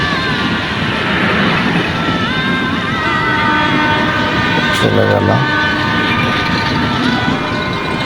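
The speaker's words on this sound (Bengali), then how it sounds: "ট্রেন যাইতেছে বেনাপোল" A long, fast Benapole-bound train from Kamalapur rushes past the Jurain level crossing with a loud continuous rumble and rattle, a short horn toot midway, close by, and a voice speaks briefly.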